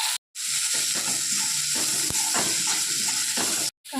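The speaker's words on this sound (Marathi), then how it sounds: "हिरवण्याच्या कांदा टाकून घ्यायचा चांगलं परतून घ्यायचं" Onion sautéing in a pan for a chutney, a steady loud sizzle close up with faint scraping of a spatula stirring, broken by two brief silent gaps.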